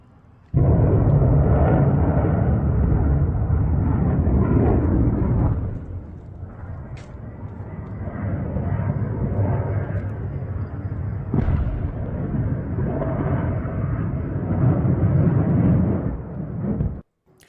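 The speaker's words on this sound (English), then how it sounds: "This first one is view of Israeli interceptors failing to intercept incoming Iranian missiles." News footage of Iranian missiles and Israeli interceptors exploding over Israel, a long roaring, rumbling wash of blasts and booms with a few sharp cracks, loud and continuous, dipping briefly before surging again.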